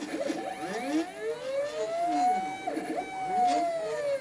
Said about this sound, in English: here's just a view of the X-axis pulley assembly in action